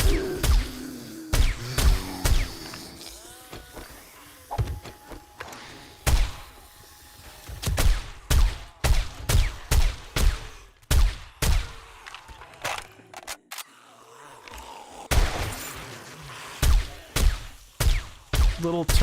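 Small defensive turrets in a base-defence video game fire sharp, punchy shots, often in quick bursts, with irregular gaps between volleys and a busy background of combat noise.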